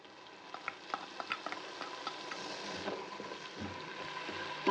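Ginger-garlic paste and chili paste frying in hot oil in a pan for village-style chicken biryani, a steady close sizzle with scattered crackles and the scrape of stirring throughout.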